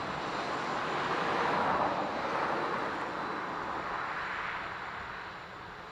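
An Aer Lingus airliner arriving from Madrid at Dublin Airport gives a steady jet roar at a distance that swells slightly and then slowly fades, with no voices.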